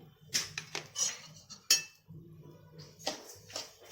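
Coarse wheat grits tipped into a pan for jaggery lapsi, a series of close metallic clinks and spoon taps against the cookware with short pauses between, fairly quiet and without speech.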